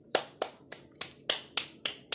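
A child claps hands about eight times in an even, quick rhythm, sharp close claps with brief gaps between them and no voices.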